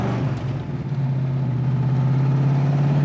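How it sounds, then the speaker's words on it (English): A 1965 Ford Mustang Fastback engine idles close by, a steady low rumble with a slight lift in the first second, then settling into an even throb with no voices. "It's got a nice rumble to it."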